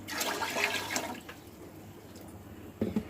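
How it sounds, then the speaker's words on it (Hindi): Water splashes and gurgles as it is poured into a cooking pot for jaggery rice, a short quiet pour fading out, followed by a faint clink near the end. "तो यहाँ पर पहले पानी शामिल करेंगे।"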